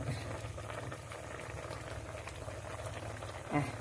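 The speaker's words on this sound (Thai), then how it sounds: "รอให้เดือดก่อนนะคะทุกคน ต้มไป เรื่อยๆเรื่อยๆเรื่อยๆให้เดือดให้ ให้ มะลุมเปื่อยนะคะ" A pot of drumstick curry with mackerel bubbles at a steady boil, a close, even gurgling and patter that runs throughout, with one brief louder knock near the end.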